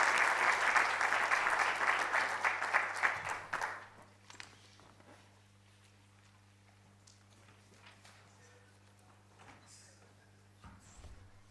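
Audience applause after the 2017 UJ MISTRA annual lecture by former deputy finance minister Mcebisi Jonas, a dense round of clapping for about four seconds that quickly dies away into quiet room tone with a few scattered claps.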